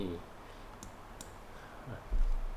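Two quick, faint computer mouse clicks a moment apart while navigating a Google Maps satellite view, set against a quiet room background.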